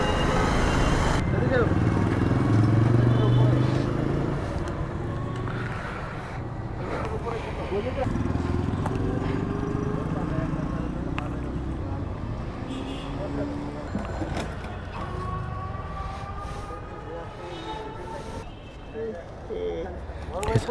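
A motorbike rides through congested city traffic on the way to Bashtola Notun Bazar, its steady engine drone mixed with surrounding road and vehicle noise that stays loud throughout.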